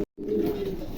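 Pigeons cooing up close, a low throaty coo that starts after a moment of silence and carries through, clear and loud with no talk.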